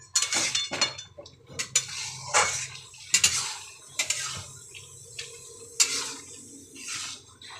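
Ground coconut is stirred into a snake gourd and prawn curry, with a metal spoon clinking and scraping against the pan in irregular close bursts, alongside soft wet stirring sounds.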